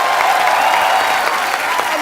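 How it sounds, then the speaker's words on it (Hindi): Studio audience applause on a comedy talk show set, a dense, steady roar of clapping that holds at full loudness throughout with no gaps. "ठोको यार, टका के ठोको"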